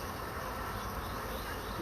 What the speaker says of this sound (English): some bees making their way off of the fence onto it